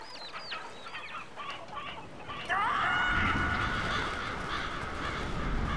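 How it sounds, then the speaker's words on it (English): Cartoon chickens in the video game Billy Hatcher cluck and squawk in short repeated calls, then a louder rising game cry and a continuous rumble take over midway. "and a bunch of chickens"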